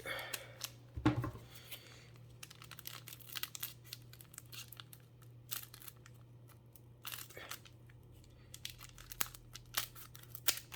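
Crinkling and tearing of foil packaging as a Yu-Gi-Oh! booster pack is opened by hand, with a sharp rip near the start followed by soft rustles and crackles, close up and quiet.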